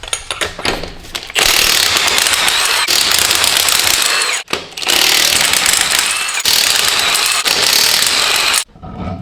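Power tool with a socket spinning off the brake bolts on a Duramax truck, several long, loud, chattering bursts split by short pauses.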